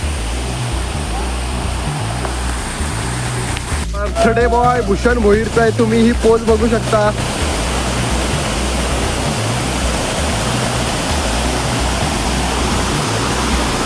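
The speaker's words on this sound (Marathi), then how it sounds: "तर बघू शकता हा गोगाटा धबधबा" Ghogata waterfall pours with a steady, loud broadband roar throughout, and a voice talks over it for a few seconds in the middle.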